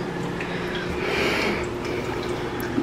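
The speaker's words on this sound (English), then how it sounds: "Got a waterfall." Small waterfall trickling inside a reptile enclosure, a soft continuous splash and drip of running water, steady and close with no talk over it.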